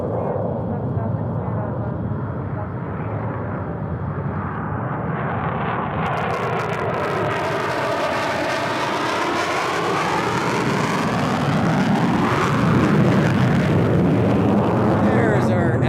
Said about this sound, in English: There's our afterburner.